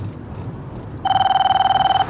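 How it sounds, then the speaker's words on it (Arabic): A mobile phone rings loudly and close with a rapid pulsing electronic ringtone that starts abruptly halfway through after a quiet room hum. "اياك ان تجيب على هذا الجوال الكافر."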